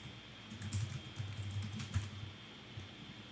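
Quiet typing on a computer keyboard, a quick irregular run of soft key clicks close by, with no talk.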